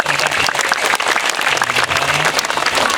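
Loud, close applause from a crowd at a Balinese Calonarang temple performance, dense and continuous, with faint sustained tones underneath.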